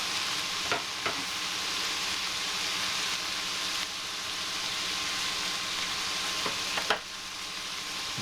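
Beef and vegetables stir-fry in a pan with a continuous loud sizzle, broken by a few sharp clanks of utensils stirring against the pan, close up and with no talk.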